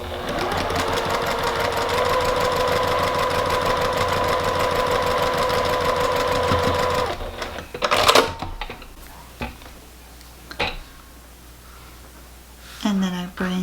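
Sewing machine stitching a quilt seam with a 1/4 inch seam allowance, a rapid, even mechanical chatter for about seven seconds, then stopping, followed by fabric handling noises and a brief voice.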